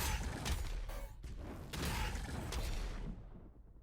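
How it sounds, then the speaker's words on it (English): Rapid machine-gun fire in a video game sounding as an enemy takes a hit, a dense, loud burst of rattling shots and clanks running for several seconds before cutting off. "It's weird that it does the machine gun noise when it gets hit."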